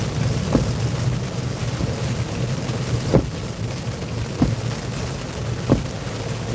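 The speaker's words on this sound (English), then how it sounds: "It's raining pretty hard right now." Heavy rain during a storm chase pours down as a steady dense hiss, broken by a few sharp drop or knock impacts spaced a second or two apart, with no speech.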